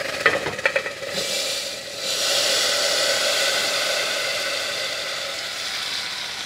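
Hot oil tempering for Odia dalma hisses into a steady broadband sizzle after a few brief clattering knocks of a pan or spoon at the start, continuing loud and close with no talk.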